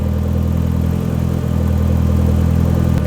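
A BMW E30 M3 engine with individual throttle bodies runs steadily at idle, a loud, close, even mechanical drone with a rough pulsing rhythm, alone and without a break for about three seconds.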